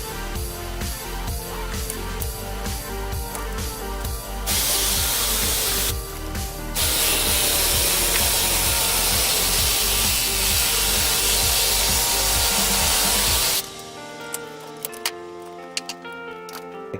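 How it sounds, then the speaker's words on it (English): A power tool cuts body mount bushing spacers in a loud, steady, close-up grind, with a brief pause partway through, before stopping and leaving quieter workshop clatter. "I've cut all of the spacers"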